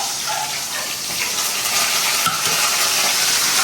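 Onions and curry leaves sautéing in a pan for goat intestine kuzhambu, a loud continuous hiss and crackle with stirring noise throughout, no voices.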